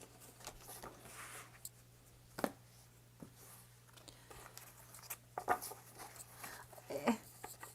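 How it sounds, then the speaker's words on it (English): Large Literary Witches oracle cards are shuffled by hand: quiet, scattered riffling and soft crisp snaps of card stock, with a few sharper bursts, over a low background hum. "Let's see how they shuffle."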